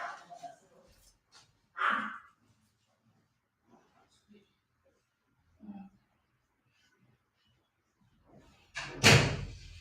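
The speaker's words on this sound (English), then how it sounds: "let me close the door" A door slams shut with a single loud thud at the end, after sparse, quiet talking and movement sounds in a room during a rainy storm.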